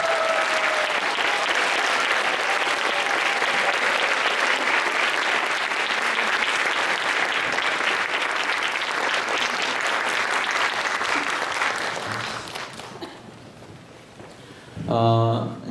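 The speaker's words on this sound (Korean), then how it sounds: "다 같이 일어나서 이분을 환영하는 박수 치도록 하겠습니다" A standing congregation at a Friday campus chapel service applauds to welcome a pastor: loud, sustained clapping for about twelve seconds that fades out, followed by a brief burst of voices.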